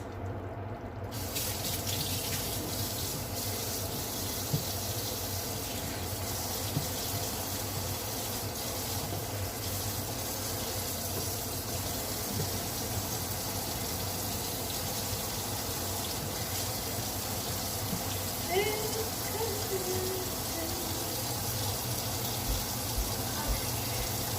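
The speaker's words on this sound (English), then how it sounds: "Then I'm going to wash my hands." Kitchen tap running steadily while hands are washed, a continuous close rush of water lasting over twenty seconds with faint splashes and occasional small handling sounds.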